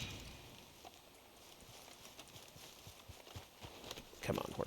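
Horse hooves clip-clop in the Red Dead video game, a steady walking rhythm that stays faint and sits beneath someone talking casually.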